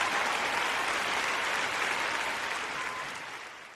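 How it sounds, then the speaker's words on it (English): Dense crowd applause after an interview, sustained and even before gradually fading out toward the end. "Clap it up, clap it up, clap it up."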